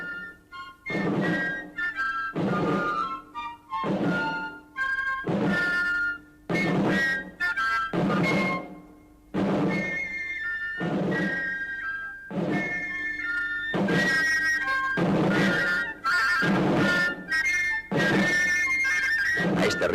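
An 18th-century Spanish grenadiers' military march rhythm, with loud, evenly spaced drum thuds under a sustained, whistle-like fife melody that carries on throughout.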